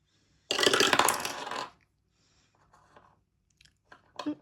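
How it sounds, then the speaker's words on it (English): Three-sided dice rattling and tumbling across a surface for about a second, followed by a few faint clicks and taps. "I'm going to roll a 3-sided dice to see how many I put in."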